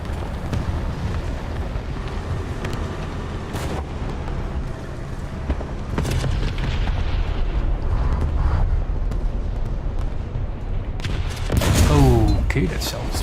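Tank cannon fire and explosions in a tank video game with tanks like a Panzer III, E50 and SU-122, heavy booming blasts under steady talk, with a louder burst near the end.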